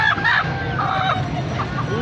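Chickens clucking and crowing in a poultry market, with bird calls rising over busy, noisy market background and faint voices nearby.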